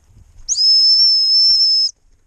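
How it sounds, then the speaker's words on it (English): A gundog stop whistle sounds during retrieving training: one long, loud, steady high-pitched blast of about a second and a half, with near-silence on either side. "She's coming well with that stop whistle."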